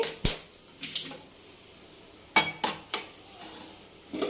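A metal lid set onto a pot while chicken cooks for chicken fry biryani, giving a sharp clank followed by a few lighter metallic knocks and rattles, close and clear with no talk.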